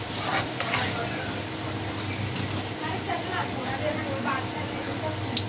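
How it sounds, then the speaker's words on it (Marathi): Spice masala frying in oil for a fish curry, a steady low sizzle running the whole time with faint stirring scrapes, close and moderately loud, no talk over it. "चला तर आपण आता याच्यामध्ये मसाला झाला आपला फ्राय चांगला"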